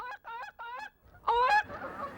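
Geese on a Dakota farm honking back at a woman, three quick rhythmic calls followed by a louder, harsher burst of honks close by, with no talk over them.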